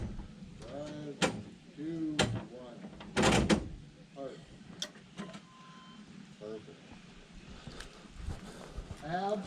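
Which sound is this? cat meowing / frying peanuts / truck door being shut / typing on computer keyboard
truck door being shut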